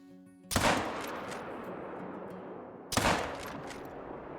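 Two loud, close rifle shots from a .45-70 fired at a bobcat, each a sharp blast with a long rolling echo that trails off, spaced a couple of seconds apart.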